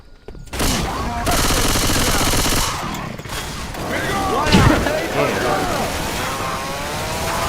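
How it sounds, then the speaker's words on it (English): Gunfire at a propane tank in Call of Duty Cold War, with loud sustained bursts of shots and a deep boom in the middle amid whooshing, swirling effects in a noisy battle. "I'm gonna shoot this propane tank."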